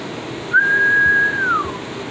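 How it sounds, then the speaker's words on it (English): A single clear, steady whistled note held for about a second before gliding downward and fading, heard alone over a quiet background. "I whistle to a song."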